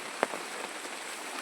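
Rain falling steadily in a village during the monsoon season, a soft continuous patter with one sharper nearby drop-splash near the start, no voices.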